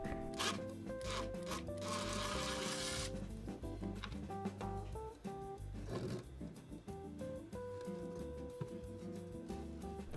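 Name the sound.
removing rusted screws from a wooden speaker baffle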